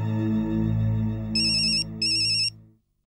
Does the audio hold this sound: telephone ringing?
yes